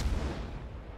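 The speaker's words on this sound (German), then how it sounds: "Sieht man auch, wahnsinnig schnelle Schussfrequenz." Rapid-fire naval guns of the Khabarovsk destroyer in World of Warships, booming low blasts in quick succession that fill the sound loudly, with no talk over them.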